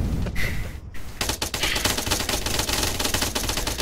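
Sustained rapid gunfire in a video game, aimed at an already dead enemy, with dense, close automatic shots continuing after a brief opening crack and carrying through the whole stretch.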